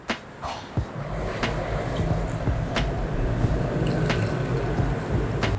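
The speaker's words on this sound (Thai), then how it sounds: "ใส่ชาเขียวลงไปนะคะ บีบน้ำชาออกมาเยอะๆนะคะ" Brewed green tea being squeezed out into a glass for an iced Ramingk green tea drink, wet squishing and dripping with a few sharp clinks, close and fairly loud.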